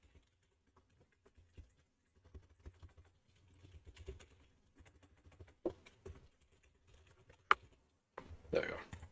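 Light, quiet typing on a computer keyboard in irregular bursts of soft key taps, with a few louder clicks and a brief rustle near the end.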